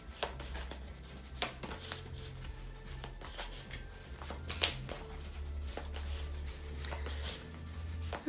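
Tarot cards are shuffled and cut by hand, giving repeated quick riffling and slapping bursts, close and fairly quiet, with no talking.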